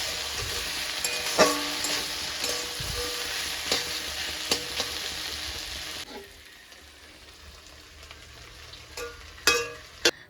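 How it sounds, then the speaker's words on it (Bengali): Taro stolons and potatoes frying in a pan, with a loud steady sizzle and occasional stirring clacks, then the sizzle drops quieter partway through before a few sharp scraping knocks near the end. "আর এদিকে হচ্ছে কচুর লতি আর আলুটাকে ভালো করে ভেজে নিচ্ছি।"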